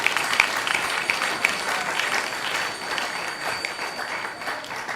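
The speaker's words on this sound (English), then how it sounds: "Please give him a big round of applause." Applause from a seated audience at a devotional class during a Maha Sivaratri program, steady clapping sustained throughout at moderate level with no talk over it.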